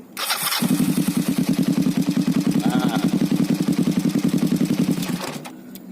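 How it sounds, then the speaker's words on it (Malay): A Kawasaki Vulcan EN 500 custom bobber motorcycle engine cranks, catches and settles into a loud, close, rapid rhythmic idle before cutting off near the end. "So aku akan crank motor tu, aku start motor tu macam style kereta."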